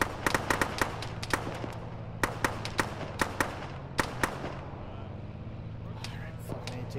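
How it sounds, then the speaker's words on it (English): A technical's mounted gun in the military game Arma fires through trees, a rapid string of sharp cracking shots in uneven bursts, fairly distant and fading toward the end over a steady low hum. "That gun is the fucking technical. That one. Firing through the trees at us."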